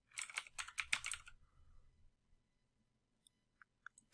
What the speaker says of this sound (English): we're going to go ahead and type in the name